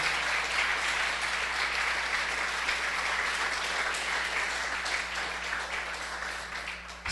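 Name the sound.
congregation applauding in church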